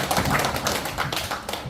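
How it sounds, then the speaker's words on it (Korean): An audience at an academic lecture on Gando history claps in welcome. The applause is close and steady, with brisk, uneven slaps throughout. "다시 한번 박수로 맞이해 주십시오."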